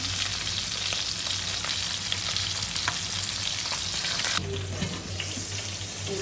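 Chicken bhuna cooks in a pan in its own released water, giving a steady, close frying sizzle with light scraping ticks of a stirring spoon, dropping slightly in level near the end, with no voices.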